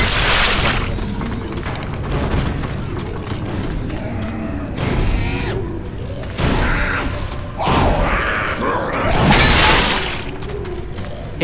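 A bile jar shattering in the zombie shooter Left 4 Dead 2, glassy crashes and bursts amid loud, chaotic gunfire and infected noise across the stretch, with no talk.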